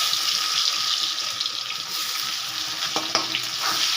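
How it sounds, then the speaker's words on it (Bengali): Onions dropped into hot oil left over from frying fish, a steady loud crackling sizzle with a few sharp pops toward the end and no voices. "তেলের মধ্যে দিয়ে দেব পেঁয়াজ।"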